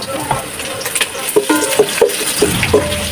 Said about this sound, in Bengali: তেল ঘি গরম হয়ে আসলে কিছু পেঁয়াজ দিয়ে দিলাম বাজার জন্য, হালকা ভেজে নিব